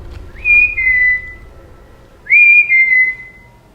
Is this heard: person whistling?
yes